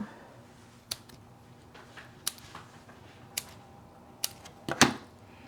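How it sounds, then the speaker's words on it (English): Scissors cutting up small dimensional adhesive foam pieces for a paper craft treat box: quiet, sparse snips and clicks spaced irregularly over a few seconds, with a slightly louder crisp cut near the end. "Got some here that I'm going to cut up."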